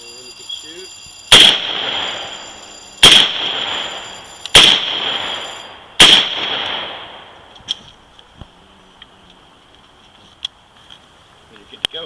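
Four loud rifle gunshots fired at roughly even intervals, each a sharp crack followed by a decaying echo, then quieter scattered clicks and small knocks after the last shot.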